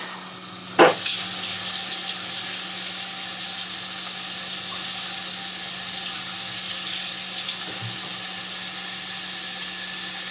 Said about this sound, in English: let me rinse off my hands real quick